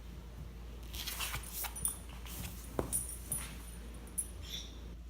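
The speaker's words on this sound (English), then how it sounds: "Such a good dog." A dog whimpers and yips softly in short, scattered bursts over a steady low hum, fairly faint and with no talking.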